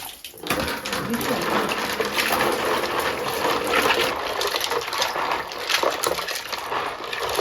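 Freshwater clams being rinsed by hand in water to remove river sand, giving a steady, close splashing and sloshing of water that continues throughout, with faint speech in the background.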